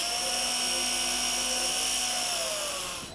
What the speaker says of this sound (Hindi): सबसे पहले इस पीवीसी पाइप की कैप में 2 होल्स करेंगे और ये 2 होल्स 3 mm के ड्रिल बिट से हम करेंगे